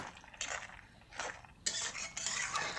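Stirring bottle gourd curry (lau ghonto) with a utensil in a pan, giving several brief scraping, clinking strokes of moderate loudness, close up, with no voices.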